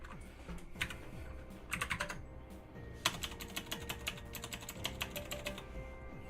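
Rapid typing on a computer keyboard, close and clear, with bursts of clicking keystrokes and a few louder key strikes and pauses between runs.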